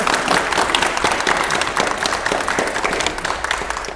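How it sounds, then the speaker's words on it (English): Studio audience applauding a contestant on an antiques game show, loud continuous clapping that fills the whole stretch, close and unbroken, with no voices over it. "Give Di a round of applause"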